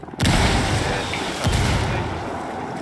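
Grenade blasts in Ghost Recon Wildlands, two loud booms about a second apart with rumbling decay that fades slowly afterward.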